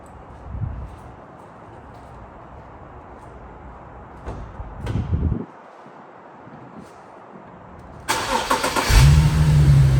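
A car engine cranks and starts, with faint handling noises and thumps first, then a burst of cranking that catches into a running idle, close and fairly loud.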